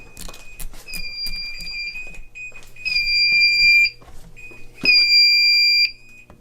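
Fire alarm panel sounding a trouble alert for missing backup batteries: steady high-pitched electronic tones in repeated bursts of about a second, near and fairly loud, with some clicks and handling noise between them.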